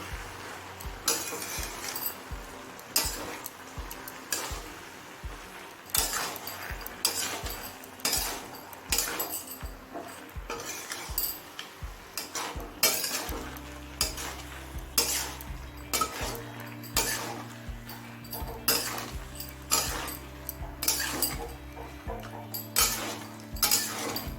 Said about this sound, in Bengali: এখন নেড়ে বাঁধাকপির সাথে সব কিছু মিশিয়ে নেব